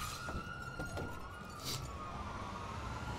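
In GTA 5, a fire truck siren wails steadily at a distance, faint under a dull hiss of game noise, with a few soft thumps.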